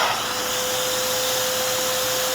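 An XPOWER canister blower running on its low setting: a steady, close whooshing whir with an even airy hiss and a faint constant tone, uninterrupted and without speech.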